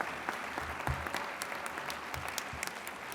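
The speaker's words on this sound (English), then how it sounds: "Let's clap right there." Applause from a commencement ceremony audience, a steady patter of many hands clapping, fairly close and even throughout.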